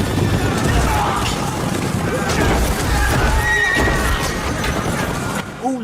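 A horse neighs amid a Game of Thrones battle scene, with a dense roar of fighting, clattering hooves and soldiers' shouts filling the whole stretch, and a higher whinny rising near the end.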